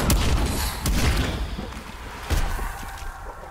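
Shotgun blasts in Call of Duty: Black Ops Cold War Zombies, a few loud booming shots spaced about a second apart, each with a broad crack that decays quickly over a low rumbling game background.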